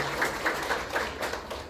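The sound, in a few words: audience applause at a public lecture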